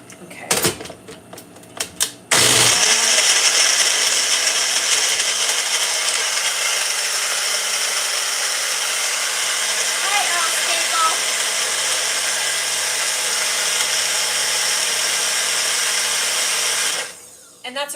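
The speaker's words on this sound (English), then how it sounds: "Thank you so much for watching me blend my shake." A countertop blender running a shake at a public access TV station in Pasadena, a loud steady whir that roars for about fourteen seconds after a few short starts and bumps, then cuts off.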